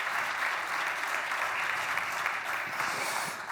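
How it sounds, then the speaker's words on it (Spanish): A large audience at a cybersecurity threat-hunting talk claps continuously for a speaker, a thick, even wash of applause held at a steady level from start to finish. "Un aplauso para él, por favor."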